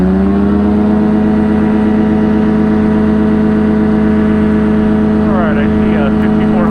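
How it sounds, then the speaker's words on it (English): The engine of a Challenger aircraft is brought up to full takeoff throttle, making a loud, continuous droning roar with steady harmonic tones that hold constant throughout. "Going to line up on the center line and bring the throttle up"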